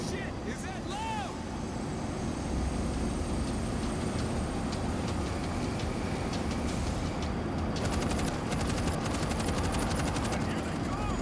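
A loud, steady rumble of a moving train in the video game World War Z fills the scene, a dense rolling roar with clanks and higher rattles over it, and voices beneath.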